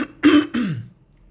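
Close up, a man gives two rough coughing throat-clears in quick succession, the second trailing off in a descending rasp before silence.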